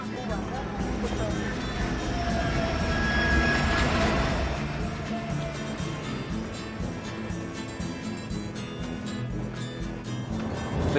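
The Trans-Siberian train rolls along the tracks with a continuous low rumble and rhythmic clatter, while a brief high squeal rises partway through. Someone talks over the running noise.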